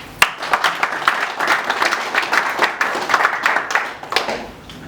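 Scattered audience applause at a charity event on fighting poverty, uneven claps rising and dipping over about five seconds, moderately near, with no voices over it.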